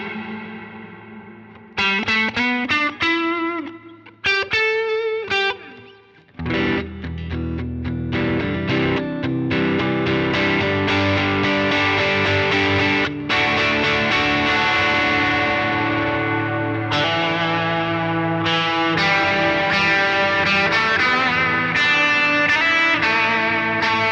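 An electric guitar through an HX Stomp and Helix with distortion and reverb plays staccato chords at first, then sustained, washy rhythm and lead lines, loud and continuous.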